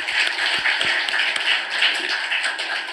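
A church congregation applauds its choir, giving a dense, steady wash of clapping from many hands that holds evenly throughout.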